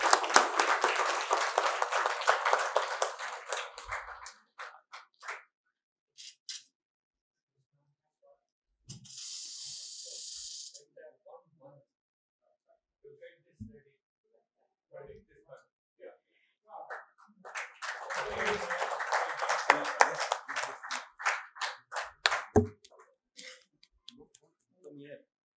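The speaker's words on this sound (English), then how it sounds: "Let's give a big round of applause, ladies and gentlemen" Conference audience at an Ayush wellness event bursts into loud, dense applause, fading out, then a voice talks over sparse claps before a second strong round of clapping rises and tapers off.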